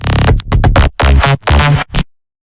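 Thick synth bass from a remix, a run of loud, full low notes in short phrased bursts with gaps between them, ending abruptly in silence.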